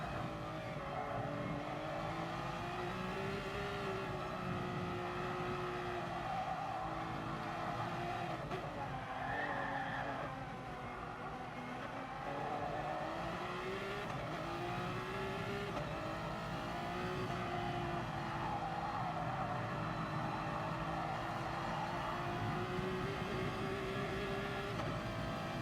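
On-board race car engine in a sim racing game, a steady loud drone rising and falling through gear changes and throttle, with occasional tire squeal, no voices.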